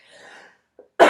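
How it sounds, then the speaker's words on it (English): A single sharp cough bursts out close and loud at the end, after a faint rustle and a small click; no one speaks. "And yes, I've had a cough."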